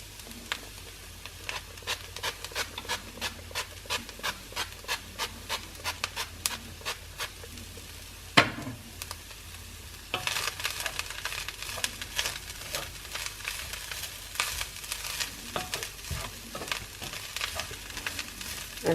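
A Quorn chilli mixture sizzles in a pan with frequent scraping stirs and light crackles, a steady close frying hiss under repeated rhythmic utensil strokes, with a louder clatter partway through.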